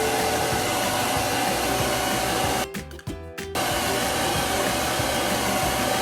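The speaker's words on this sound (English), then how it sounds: "And I'll just blow dry it real quick." Hair dryer blowing steadily on a chalk-paste silk screen, a loud continuous whoosh that cuts out briefly for under a second midway, then resumes.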